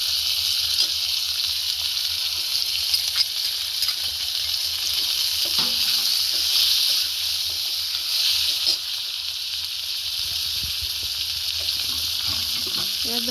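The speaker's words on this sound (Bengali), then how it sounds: "এবার দিয়ে দেবো মশলাগুলো, জিরে গুঁড়ো, হলুদ গুঁড়ো আর লঙ্কা গুঁড়ো।" Ground cumin, turmeric and chili powder sizzle steadily in hot oil in a pan for a braise of kangra, a bright continuous frying hiss with a few stirring scrapes near the middle and end, close and with no voices.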